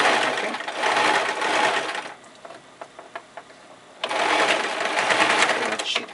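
A sewing machine zigzag-stitches a long lycra dress in two loud, fast bursts of rhythmic whirring, separated by a quieter pause filled with light clicks and handling noises.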